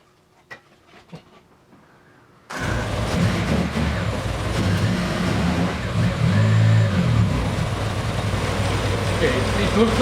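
A 1966 Triumph Spitfire engine with radiator and alternator problems kicks in after a quiet stretch with a few faint knocks, then runs loud and close as a steady, dense rumble to the end.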